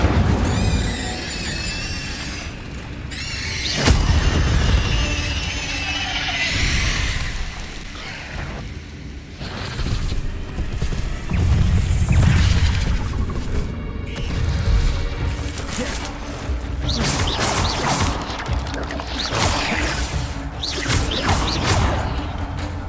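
In Hogwarts Legacy, an Incendio fire spell is cast repeatedly, making bursts of whooshing, roaring flame and crackling impacts mixed with other spell and combat effects, loud and dense throughout.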